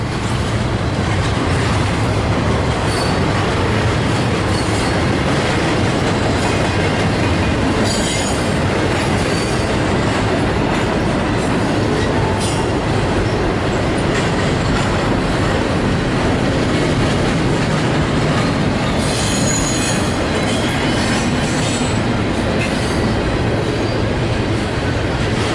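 An eastbound CPKC freight train roars past out of Thunder Bay, Ontario, in late fall, with a loud, sustained rumble of railcars, rhythmic clacking over rail joints and intermittent high wheel squeal, close and unbroken for the whole stretch.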